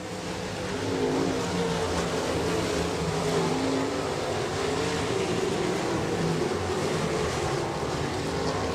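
IMCA sprint cars roaring around I-90 Speedway on the final lap, a steady loud wash of engine noise filling the clip with no break or talk.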